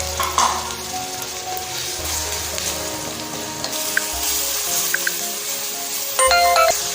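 Tomatoes go into a pan of frying garlic paste and green chillies, giving a steady broadband sizzle with stirring scrapes and a few light clinks of a utensil near the end.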